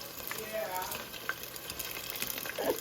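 Lumpia frying in hot oil until golden brown at home, giving a steady close sizzle and crackle with light stirring bumps throughout and no talk over it.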